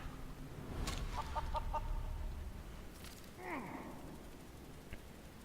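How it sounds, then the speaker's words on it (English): A chicken clucking in the fantasy role-playing game Divinity Original Sin 2, a few short clucks and squawks over a low background din of game sound and music, no talk. "Chicken!"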